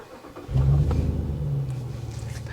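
A Jeep Gladiator with a swapped-in 5.7L Hemi V8 fires up on a warm engine, a quiet moment giving way to a loud, deep rumble that settles into a steady idle, close by with no talking.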